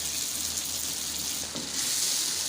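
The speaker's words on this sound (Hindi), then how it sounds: "थोड़ा सा मक्खन इसमें शामिल करेंगे और इसकी अब जो है अच्छे तरीके से भुनाई" Goat brain masala fries in butter with ginger, making a brief, steady sizzle with a soft crackle that swells slightly toward the end. The sound is close, with no voices.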